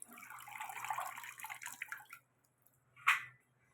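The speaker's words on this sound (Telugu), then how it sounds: "బాగా కడుక్కోవాలి" Chopped amaranth leaves are washed in water: about two seconds of close, gentle splashing and swishing, then quiet, then one short louder splash or drip, with no voices.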